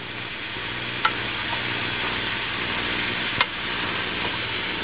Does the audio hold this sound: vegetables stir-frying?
yes